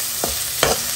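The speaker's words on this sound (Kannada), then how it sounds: "ಸ್ವಲ್ಪ ಈರುಳ್ಳಿ ಕಲರ್ ಚೇಂಜ್ ಆಗುವವರೆಗೆ ಹುಟ್ಕೊಳ್ತೀನಿ." Onions being stirred as they fry in a pan, two short scraping stir strokes over a steady close sizzle.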